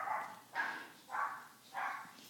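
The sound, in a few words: pug barking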